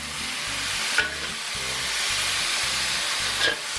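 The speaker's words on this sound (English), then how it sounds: "I'm just going to drop that beef in there like that and continue to stir fry that up a little bit." Beef stir-frying in a pan for lo mein gives a steady, loud sizzle with rhythmic scraping from stirring and two sharper clanks of a utensil against the pan.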